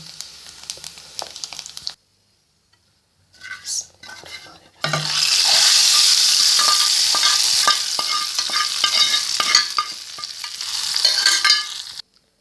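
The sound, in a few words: tadka sizzling poured into dal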